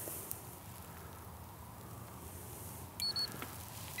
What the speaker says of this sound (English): It beeped, the lights came on,